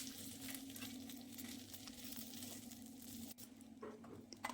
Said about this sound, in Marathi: यावर मूठभर कोथिंबीर आणि थोडंसं तेल, एकदम छान मसाला भाजून घ्यायचा आहे.